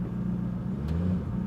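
A Jaguar XK8 engine with a fault that cuts power while driving revs on the throttle, a close, steady, low mechanical drone that rises and falls slightly over a short burst, with no talking.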